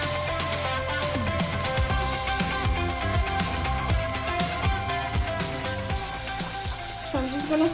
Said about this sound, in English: So I'm just gonna scramble the eggs like so